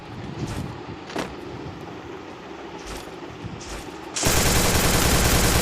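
Gunfire in the video game Free Fire: a few scattered shots early on, then a loud, dense burst of rapid automatic fire at the end.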